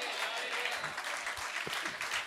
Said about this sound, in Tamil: இதுக்கு தானே கைத்தட்டிக்கணும்.